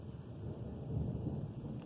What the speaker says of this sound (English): The storm is literally around us.